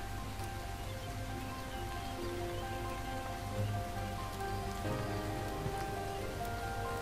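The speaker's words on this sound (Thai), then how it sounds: "ฝนอีกแล้วฝนอีกแล้ว" Rain falls in the video game Starbound, a steady soft patter of drops across the scene, faint and continuous beneath sustained tonal game music.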